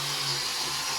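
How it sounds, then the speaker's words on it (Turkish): A power sander runs steadily on wood for a garden gazebo outdoors, making a loud, continuous broadband whir with no talk over it. "Şu an kardeşim zımpara atıyor."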